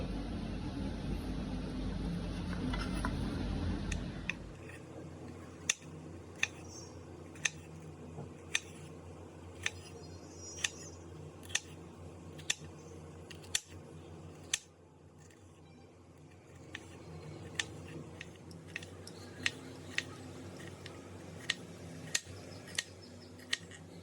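A knife finely chops a deseeded capsicum (shimla mirch) on a board, giving steady, evenly spaced crisp taps repeated through most of the stretch, close and fairly quiet, after a brief louder rustle at the start.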